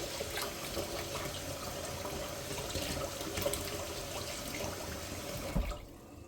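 Water trickles and splashes from a small cup into a sweet blueberry biscuit mixture, a soft steady pour lasting several seconds before stopping, close by with no talking.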